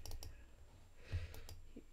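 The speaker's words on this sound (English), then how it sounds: "Do you all hear how much I'm clicking?" Mouse buttons click a few times in quick, irregular succession during a Goose Goose Duck gaming session, sharp and close against a quiet room background.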